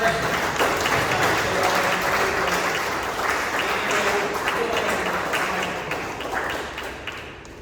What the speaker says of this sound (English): How about a hand for these?